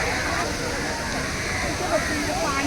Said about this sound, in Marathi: इकडनं आपल्याला धबधबा दिसतोय